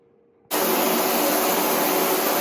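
A pump switches on abruptly after a quiet half-second and runs water into a bucket of sand for rinsing, a loud, steady rushing hiss that holds without a break.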